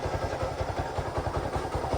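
A Suzuki Gixxer motorcycle engine idles just after a single kick start, following a half engine fitting at a workshop, a close, even, fast-pulsing putter.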